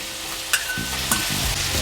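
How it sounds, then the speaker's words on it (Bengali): Dried red chillies and onion dropped into hot oil left from frying potato and pointed gourd, a steady sizzle with a couple of sharp spatula clicks against the pan. "ওই তেলেই আমি দুটো শুকনো লঙ্কা দিয়ে দিলাম, একটা পেঁয়াজ দিয়ে দিলাম"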